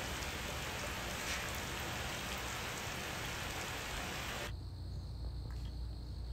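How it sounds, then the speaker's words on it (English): Steady, dense rain hisses continuously, then cuts abruptly to quieter patter near the end; no voices. "Finally, some rain."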